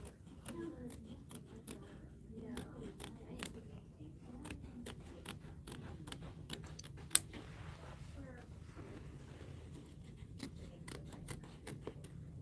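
Scissors snipping thread during embroidered quilt work, many quick crisp clicks in irregular bursts, close but fairly quiet, over a low background murmur.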